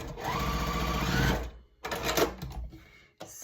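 A sewing machine stitches a quilt block in close, rapid bursts: a long steady run of needle chatter, then shorter stop-start spurts with pauses between.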